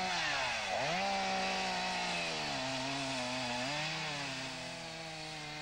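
A chainsaw whines continuously at close range as it cuts into a rhino horn during dehorning, its engine pitch dipping and rising as it bites into the hard horn.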